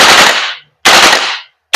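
A VFC BCM MCMR MK2 airsoft gas blowback rifle fires loud, sharp bursts up close, two full bursts and the start of a third separated by short silent gaps, with no talking.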